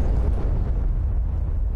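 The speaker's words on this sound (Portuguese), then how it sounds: "explosões no solo" A ground explosion in the DCS World flight simulator, set over Nevada, gives a sustained deep rumbling roar that stays loud and dense for the whole stretch with no break.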